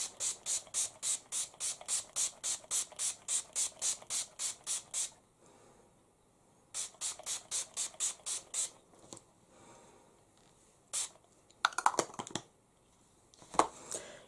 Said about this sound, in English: go back to our setting spray and liberally douse the face